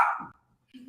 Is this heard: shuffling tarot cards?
no